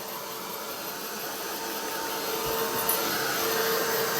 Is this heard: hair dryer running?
yes